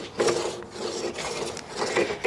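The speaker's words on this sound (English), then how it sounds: "I'm using an old-timey planer" An old-timey hand plane shaving wood for porch spandrels: close, rasping strokes, three or four rough pushes in quick succession with brief gaps between, no talk.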